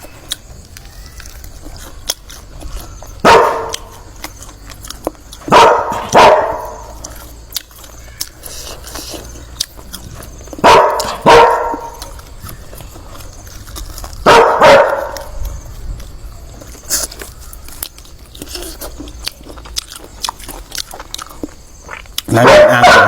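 Dogs bark in sharp, loud bursts spread across the scene, in clusters of one or two barks separated by quieter gaps with faint background noise.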